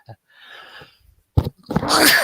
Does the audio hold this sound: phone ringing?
no